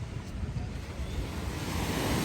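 Steady sea surf washing in continuously, with a low rumble and a wind-blown hiss over the whole stretch.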